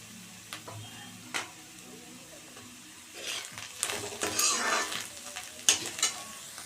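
Dried mushrooms fry in a pan, a soft sizzle running underneath while a utensil stirs and scrapes, with a few clinks and louder bursts of stirring toward the end.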